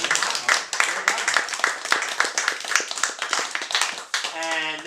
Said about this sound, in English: Give her a round of applause then.